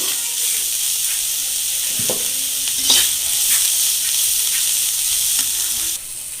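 Helencha greens fry in a pan, giving a loud, steady sizzle nearby, broken by several scraping stirs of a spatula, the hiss dropping slightly at the end.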